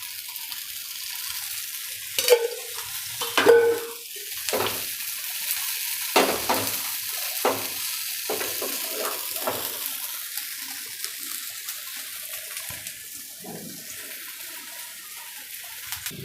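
A Gujarati poha pancake frying in oil in a pan: a steady, close crackle and hiss with scattered pops and utensil taps, the sizzle easing slightly toward the end, no voices.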